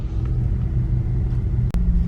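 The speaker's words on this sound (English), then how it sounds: "Alright, so the next spec truck just rolled on by." A spec race truck rumbles past during an off-road endurance race, its engine a steady, loud low drone with a brief dip before it continues.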